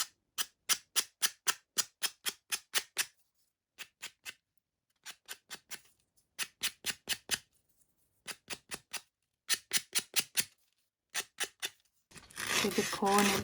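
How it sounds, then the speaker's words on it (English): A craft stick sanded at an angle by hand, rapid rhythmic scratchy strokes in short bursts separated by pauses, close and crisp, ending with a louder continuous rough rubbing. "Sand it on an angle."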